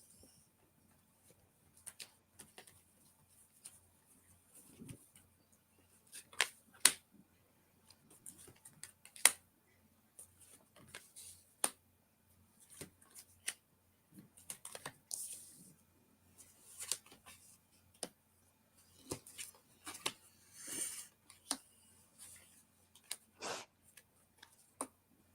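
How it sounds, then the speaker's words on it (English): Tarot cards shuffled by hand in a quiet room, a steady run of soft riffling ticks and light card slaps, some louder bursts, with no one talking. "I keep shuffling if I catch that on the bottom."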